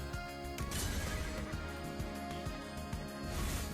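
Horses whinny over a dense, bright game-style music bed with rhythmic thumps in an online slot game, the neighs sounding somewhat distant.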